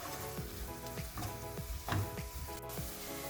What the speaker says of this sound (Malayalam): നമുക്കിനി ഇതിലേക്ക് തക്കാളി ചോപ്പ് ചെയ്ത് ഇട്ട് കൊടുക്കാം. നന്നായി ഒന്ന് വഴറ്റിയെടുക്കാം.